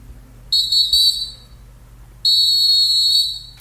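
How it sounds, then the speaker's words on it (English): A sharp high whistle sounds in two bursts, a short wavering one followed by a longer steady blast, loud and close over a faint low hum, with no talking. "Yes, whistle."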